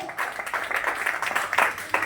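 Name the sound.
audience applause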